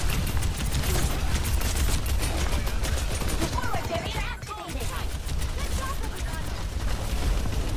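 Rapid automatic gunfire from Overwatch 2 gameplay, a continuous dense rattle of shots with scattered impact effects, loud and steady throughout, with a voice talking over it.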